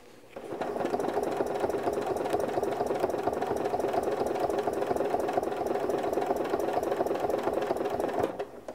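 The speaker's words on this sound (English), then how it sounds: "so I'm going to stitch now back down this way." A sewing machine stitches a quilt along a quilting ruler, a rapid, even mechanical clatter of the needle running steadily for several seconds before stopping, close and loud with no talk.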